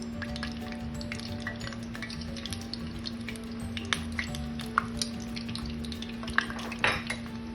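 A spoonful of garlic fries in about a cup of hot oil in a pan while cooking fried rice, giving a steady sizzle with occasional clinks and scrapes, no one speaking.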